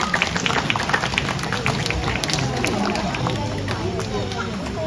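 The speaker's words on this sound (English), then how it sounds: "How about a round of applause for Bulan?" An audience at the Night Safari Singapore creatures-of-the-night show claps for Bulan the owl after its flight, a steady, dense patter of many hands filling the space, fairly loud throughout.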